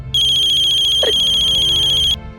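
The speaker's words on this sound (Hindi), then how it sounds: "ये कैलाश हमको फोन क्या कर रहा है?" A mobile phone rings with an incoming call during a Hindi family drama scene: a loud, steady electronic ringtone with bright repeating tones lasts about two seconds and stands alone, with no talk.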